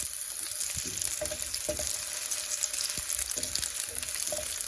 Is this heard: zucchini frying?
yes